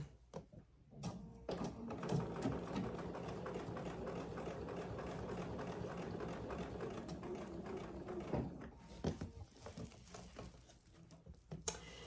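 An industrial sewing machine stitches an oven mitt in a faint, steady mechanical whir lasting several seconds, with softer clicks before and after, no talk.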